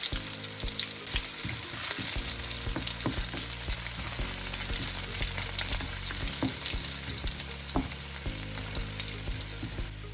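Chopped onions dropped into hot oil with popped mustard seeds in a pan over low flame for Kerala-style sambar, giving a constant dense sizzle broken by light clicks and scrapes of stirring, close and continuous with no voices.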